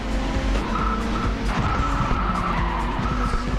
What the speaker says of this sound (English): Handbrake turns are sexy